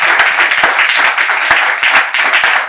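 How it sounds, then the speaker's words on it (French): A studio audience on a talk show applauds, loud, close and continuous, with individual hand claps standing out sharply from the dense clapping for the whole stretch. "On applaudit, hein, s'il vous plaît, les analyses du pasteur."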